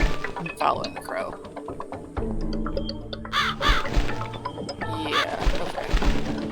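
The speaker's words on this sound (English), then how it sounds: "Am I supposed to follow the crow? I'm following the crow." A crow caws loudly and repeatedly in The Cat Lady horror video game, harsh calls over dark ambient game sound with thuds and crashes, while someone talks over it.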